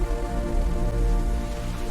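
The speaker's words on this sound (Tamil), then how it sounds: "திடீர்னு அங்கே மழை பெய்ய ஆரம்பிச்சுது." Rain falling, a steady dense patter that holds evenly for the whole stretch, fairly loud and close, with no voices.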